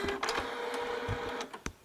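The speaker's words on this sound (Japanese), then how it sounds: "はい、印刷に移ります。" A home inkjet printer running low on ink prints onto ordinary store-bought paper, giving a close, steady mechanical whir broken by several sharp clicks and thumps of the paper feed and print head.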